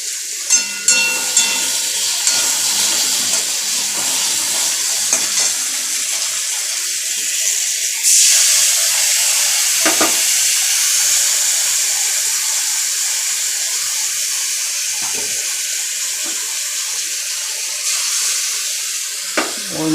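Spice paste of ginger, cumin, coriander, green chilli and turmeric with a little water sizzles in a pan of curry, a loud steady hiss throughout, punctuated by a few clinks and taps of a utensil; nobody speaks.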